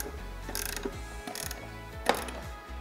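Ratchet tightening the anode bolts on a Yamaha F150 outboard, several short bursts of fast clicking with pauses between strokes, close and fairly quiet with no talk.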